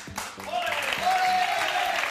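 Studio audience applause on a Spanish comedy stream, a broad clapping wash with a few sustained whistle-like tones over it, close and steady for about two seconds after a brief quieter start.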